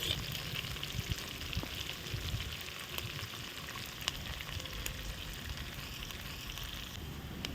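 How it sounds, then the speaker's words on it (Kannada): Onion and green chillies fry in a pan for tomato rice, giving a steady, dense sizzle with faint scraping from occasional stirring. No one speaks. "ಇದನ್ನೆಲ್ಲ ಹಾಕಿ ಚೆನ್ನಾಗಿ ಫ್ರೈ ಮಾಡ್ಕೋಬೇಕು."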